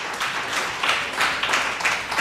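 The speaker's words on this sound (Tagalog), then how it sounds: "Bigyan muna natin ang pinakamalakas na palakpak si Lord" A church congregation applauding at a Sunday service, dense clapping that swells in waves, steady and fairly loud throughout.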